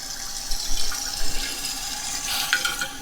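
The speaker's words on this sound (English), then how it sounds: "Water's coming in." Water rushes and hisses steadily as a toilet tank fills after a Fluidmaster tank repair kit install, close and continuous with slight gurgling surges.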